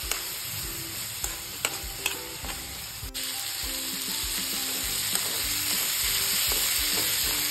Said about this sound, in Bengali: ডালটাকে আমি 2 মিনিট মতো ফোড়নের সঙ্গে ভেজে নেব